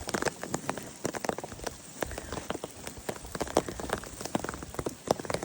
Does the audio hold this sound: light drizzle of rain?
yes